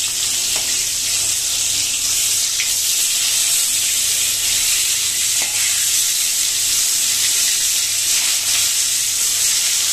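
Cauliflower and potato pieces fry in a pan, making a loud, continuous close-up sizzle and hiss with occasional faint clinks as they are turned.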